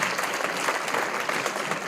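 An audience at a judge's induction ceremony gives a school performing arts choir steady, full applause, with dense close clapping that continues evenly throughout without breaks.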